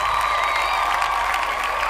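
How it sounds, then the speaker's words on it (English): Steady crowd clapping in praise at a worship gathering, dense continuous applause with faint cheering mixed in, holding even throughout without pauses. "Can we give our Lord and Savior Jesus Christ a hand clap of praise?"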